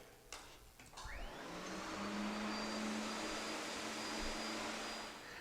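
A Bulldog SS20 floor scrubber whirs up from a brief clatter into a steady, loud motor drone with a faint high whine, running continuously close by.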